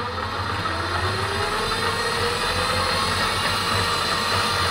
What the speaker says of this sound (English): if I turn it up to its maximum 24 volts, you'll hear the pitch and you'll see the speed increase